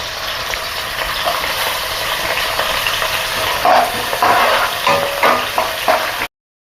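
Chopped onion frying in a pan for chicken gravy, giving a loud, continuous close sizzle with bursts of stirring clatter toward the end before it cuts off abruptly.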